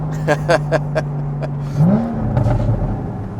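A car engine revs up and down during rev matching on a downshift, the note climbing sharply and settling back, close and loud, with brief bursts of people talking layered over it.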